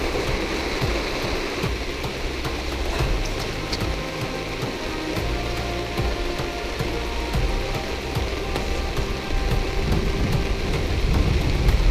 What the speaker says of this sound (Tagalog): Grabe, hindi na tumigil yung ulan.